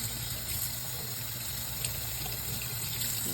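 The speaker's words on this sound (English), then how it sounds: "I'm just gonna rinse these veggies off a little bit and some cold water" Cold tap water pours steadily into a sink while vegetables are rinsed in a colander, producing an even, close hiss of running water with no pauses for the whole stretch.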